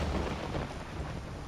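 Rain and rumbling thunder in the horror game Voices of the Void fill the space with a steady, broad, low roar. No one speaks over it.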